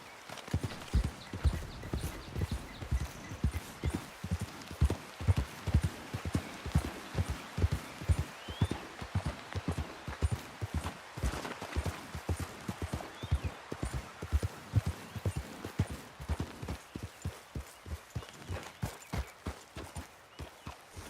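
Hooves of a horse galloping in Red Dead Redemption 2 drum in a fast, steady clip-clop rhythm, close and sustained, with faint voices in the background.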